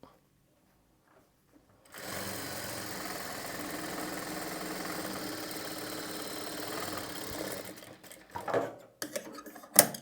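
A sewing machine stitches cloth for piping, running in one steady continuous whir after a quiet start, then breaking into shorter stops and bursts near the end.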